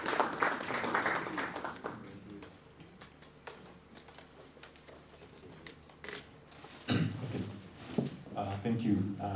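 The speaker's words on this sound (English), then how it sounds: "let's give them a round of applause." A conference audience applauds, with scattered clapping that swells near the end, mixed with people talking.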